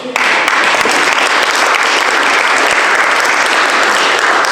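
Loud, sustained applause from a rally audience at the Aberdeen Freedom Rally, a dense wall of clapping that starts abruptly and stays full for several seconds.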